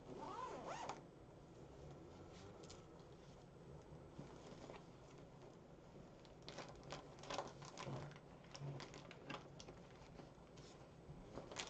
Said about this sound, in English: I got some blue, purpley yarn stuck in the zipper.